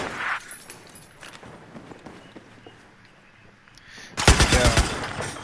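Battlefield 4 gunfire on Operation Locker: a few scattered shots and footsteps over quiet ambience, then a loud rapid burst of automatic fire near the end.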